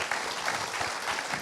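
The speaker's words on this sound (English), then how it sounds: "we should give them a massive round of applause." An audience applauds a panel at a 30th anniversary question time event, a steady, moderately faint patter of many hands clapping with no voices over it.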